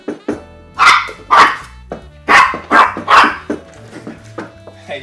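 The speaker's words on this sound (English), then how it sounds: "y'all got dogs and stuff" Dogs bark loudly and close by in several sharp bursts, some clustered in pairs, with quieter gaps and a low hum running between them.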